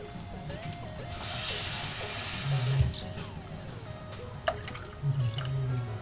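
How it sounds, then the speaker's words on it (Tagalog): Water is poured into a cooking pot with a steady splashing rush, then softer trickles and drips close by amid kitchen clatter and a few metallic knocks. "So, ilalagay na po natin yung ating tubig."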